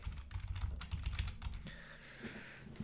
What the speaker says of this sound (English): I think I use keyboard for this game.